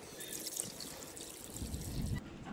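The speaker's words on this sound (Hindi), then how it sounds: "सबसे पहले तो मैं डालूंगा इसमें थोड़ा पानी" Water trickles and pours steadily into the radiator of a Tata Sumo Gold during a home cooling-system flush, a quiet, close liquid stream with a soft gurgle that thickens near the end.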